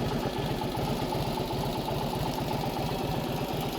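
A 1948 Indian Chief motorcycle idles steadily after a cold start, its engine giving a loud, close, even rapid thumping pulse that holds unbroken throughout with no voices.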